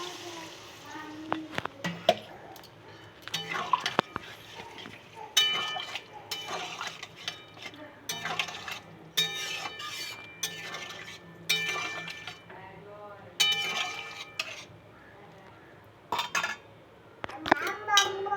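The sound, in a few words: pouring hot water into potato curry in pan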